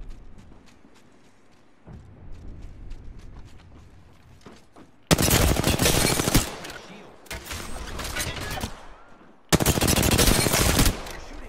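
Video game gunfire: light shots and footsteps at first, then three loud, long bursts of rapid automatic fire, each cutting in sharply and stopping abruptly.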